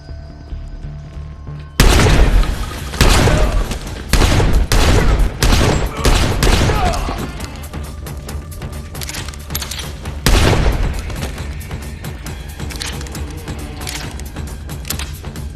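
Gunfire from a John Wick 3 film scene, with loud rapid bursts of shots and heavy booms, then continuing shots and mechanical clatter at a lower level.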